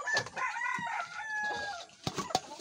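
Backyard chickens cluck and call close by while waiting to be fed behind a house, with overlapping squawks and a few sharp, louder cries near the end.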